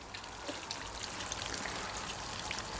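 Cleaning liquid trickles and dribbles out the bottom of a car's diesel particulate filter with faint bubbling, a soft continuous watery hiss close by with small gurgles.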